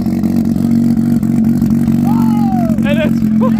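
A turbocharged Mazda RX-8 rotary engine idles roughly right after its first start, a loud, close, uneven choppy drone while people talk excitedly over it.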